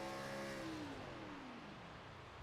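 A race car engine in the iRacing sim at Silverstone winds up through the S's, its tone rising smoothly and then sliding down as the revs drop, steady and close.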